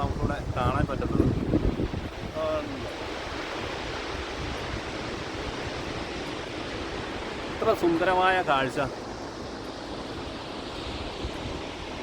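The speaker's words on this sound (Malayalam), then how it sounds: "ഈ കാണുന്ന കേട്ടോ ജോഗ് വാട്ടർഫോൾസ് ഉണ്ടോ." Jog Falls in Karnataka, a tall waterfall, gives a steady broad roar of plunging water with wind buffeting the microphone, while someone talks over it at the start and again later.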